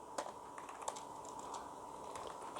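Keys clatter on a computer keyboard as code is typed, a quiet, close run of irregular clicks over faint steady background hum, with no voice.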